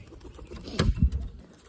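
Pigeons in a coop with eggs give a brief, soft cooing burst near the middle of a quiet stretch, faint and close.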